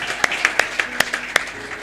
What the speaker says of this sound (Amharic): እልልታ ጭብጨባ ከዚህ የበለጠ ለዚህ ጌታ እናመጣለን።